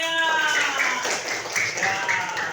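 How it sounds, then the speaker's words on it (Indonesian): Students in an Indonesian classroom clap for themselves after reciting Pancasila, a moderate patter of hands under a teacher's voice, with tonal speech and a few sharper taps standing out. "Beri tepuk tangan buat diri kalian."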